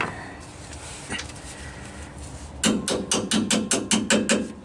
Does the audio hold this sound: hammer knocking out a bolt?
yes